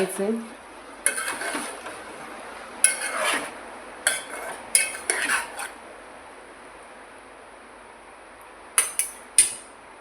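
Mushroom curry being stirred in a pan: repeated clattering scrapes and knocks of a spoon against metal come in irregular bursts, with quiet pauses between them and a low sizzle underneath.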